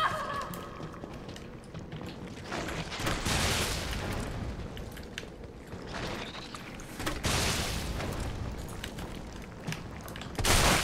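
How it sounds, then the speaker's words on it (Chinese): Explosive grenade launcher rounds fire and detonate in the Resident Evil 3 Remake video game, giving several heavy booming blasts with rumbling, crackling debris between them, loud and without talk. "两发爆炸榴弹"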